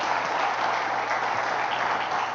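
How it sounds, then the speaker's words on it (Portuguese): A church congregation in Avaré claps together in worship, a steady, dense patter of hands filling the room at moderate loudness without breaks. "Vamos aplaudir ao Senhor nosso Deus."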